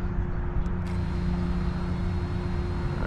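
Propellers of an AxisFlying KOLAS6 light folding FPV drone spinning at low throttle, giving a steady, even motor hum and whine that holds constant with a faint airy rush and no talking.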